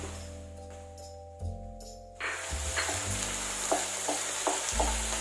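Thick slices of ginger hit a pan of frying onion for ginger pork. A quiet hum gives way to a sudden, fuller sizzle that crackles on steadily with light stirring scrapes.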